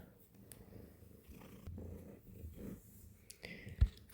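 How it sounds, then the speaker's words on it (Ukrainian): A cat purring close by, a low steady rumble with a brief louder bump near the end. "до мене прийшов кіт"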